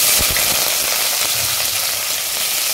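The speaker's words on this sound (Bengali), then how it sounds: "তার সঙ্গে দিয়ে দিচ্ছি আমি ড্রাই চিলি, এবং অলমোস্ট দিয়ে দিচ্ছি আমি গ্রিন চিলি।" Dry and green chilies hit hot oil together with black cumin while making a Bengali lau ghati, a loud, steady, hissing sizzle with faint stirring clicks throughout.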